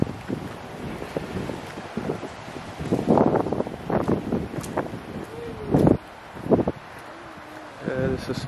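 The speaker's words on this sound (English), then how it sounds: "It's windy." Gusty wind buffets the microphone in bursts of low rumbling noise at an outdoor park, with people talking over it.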